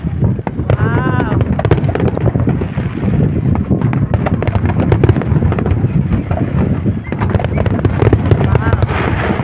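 Continuous crackling and popping bursts of New Year fireworks going off in Bahrain, loud and dense throughout, with voices exclaiming in the background.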